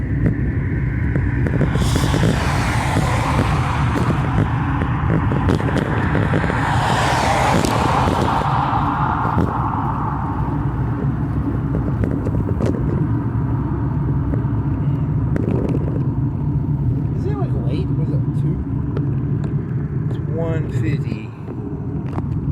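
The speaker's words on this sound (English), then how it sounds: "There's a car coming by." A car passes by at night, a steady rumbling road noise that lasts the whole stretch and swells and fades gradually, heard alongside someone talking.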